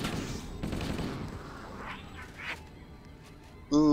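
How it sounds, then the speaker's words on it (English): Gunfire in the video game Halo, bursts of rapid shots crackling in the first seconds and fading into scattered distant reports, ending with an abrupt tonal game sound; no speech over it. "Who's shooting at me?"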